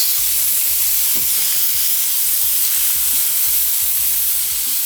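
Onion, celery, pimento and sweet pepper sauté in a pan with a loud, steady hiss, while a spoon or spatula scrapes and tosses them in a quick, even rhythm, close up and without talk.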